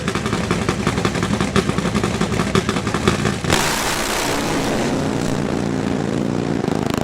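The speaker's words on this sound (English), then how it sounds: "we hear the cackling in the pipes, the smell of nitro in the air" A loud, raw nitro-fueled 150 cubic inch V-twin drag bike engine crackles and roars steadily through its pipes, with a harsh rumbling texture and a shift in tone partway through, no talking.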